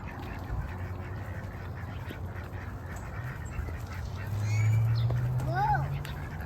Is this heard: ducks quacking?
yes